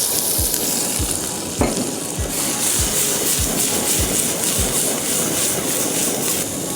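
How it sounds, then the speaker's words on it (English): Mixed vegetables for duck rolex sauté all at once in a pan, giving a steady close sizzle broken by regular soft taps of a spoon against the pan. "Now I'm just going to saute my vegetables all at once before I add in my meat."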